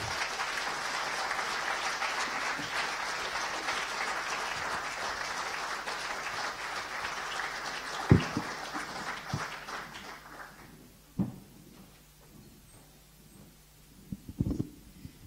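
Steady, dense applause from a conference audience fills the first ten seconds, then fades out, leaving a few scattered claps and thumps in quiet.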